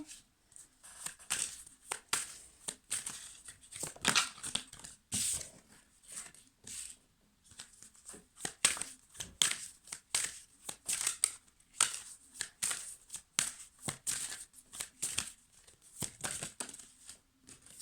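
Oracle cards shuffled and drawn by hand, a close run of crisp card-stock rustles, flicks and slides in irregular bursts with brief pauses, no talking.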